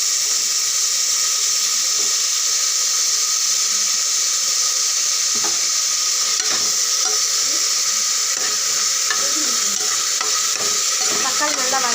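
Onions and tomatoes sauté in a pan for a South Indian crab gravy, a steady bright sizzle running throughout with scattered scrapes and clicks of stirring, close and fairly loud with no talking.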